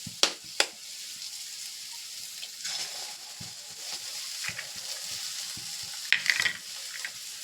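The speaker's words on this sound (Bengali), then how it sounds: "ডিমটা কিন্তু এর সঙ্গে একটু নেড়ে দেব।" Beaten egg frying with spiced potatoes in a pan, a soft continuous sizzle broken by sharp scraping clicks as the mixture is stirred, fairly close and without talk.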